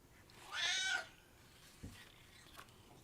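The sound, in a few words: cat meowing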